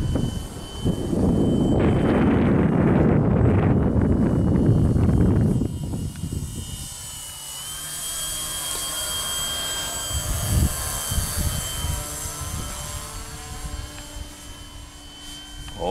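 An Avios Grand Tundra RC airplane, a 1700mm blue and silver model on 6S power, flies its maiden flight. Its motor roars loud and close for several seconds, then eases into a steady, fainter whine as it pulls away.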